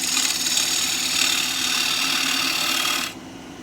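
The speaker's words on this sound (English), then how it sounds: "Back up to speed using my round carbide cutter." A wood lathe spins a piece of ipe while a small round carbide cutter shears it, giving a steady close hissing scrape over a motor hum that drops away near the end as the tool lifts off.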